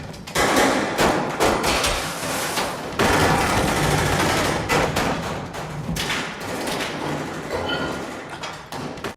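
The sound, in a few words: gunfire in a film shootout scene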